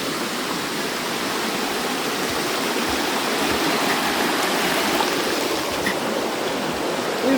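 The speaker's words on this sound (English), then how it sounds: "Is this river artificial or is this like a original?" A river stream flowing at the Urpola nature center in Mikkeli, a steady loud rushing wash of water that fills the whole stretch without a break.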